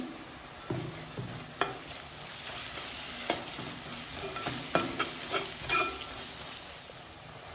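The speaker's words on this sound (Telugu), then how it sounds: "ఒక స్పూన్ అయితే అల్లం వెల్లుల్లి పేస్ట్ అయితే వేసుకోవాలి. వేసుకొని ఒకసారి కలుపుకోవాలి." Ginger garlic paste is stirred into frying onions in a pan, with a steady sizzle under repeated scraping and clinking strokes of a spoon against the pan.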